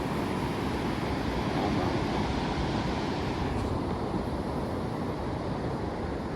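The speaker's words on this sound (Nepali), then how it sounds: "हावा चलिरहेको छ क्या फेरि हावा" Wind sweeps through a Gandaki river valley, a continuous broadband rush buffeting the microphone, loud and close, with no talking.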